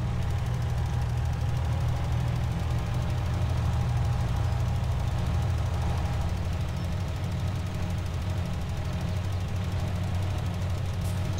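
Tractor engine in Farming Simulator 2017, likely a Ford, idling steadily with a low, continuous rumble throughout, loud and constant with no talking.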